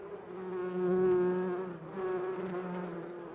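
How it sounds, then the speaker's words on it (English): A steady insect buzz of bees, added as an effect, drones on continuously with a slight swell in the middle, heard alone with no talking. "We're going to insert like bee buzzing sounds here"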